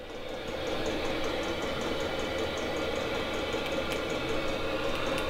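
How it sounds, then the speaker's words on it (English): Fuel pump of a Chinese diesel heater ticking in a rapid, steady rhythm over a constant droning hum as its speed is adjusted, close and continuous for several seconds with no voices. "can you hear the pump slowing down, pumping less diesel in?"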